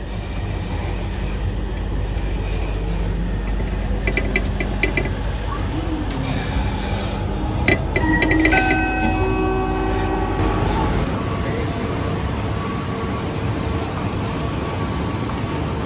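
An LRT Jabodebek Cibubur Line train runs steadily, a loud continuous rumble of wheels and motors with tonal whines and a brief squeal mid-way, heard from inside the car.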